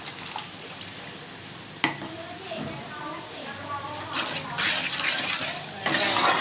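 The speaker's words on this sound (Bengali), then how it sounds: "এবার আমি জল ঢেলে দিলাম।" Water pours into a pan of frying fish curry, with a sharp splash and then rising sizzling and bubbling. A voice talks over the cooking sounds.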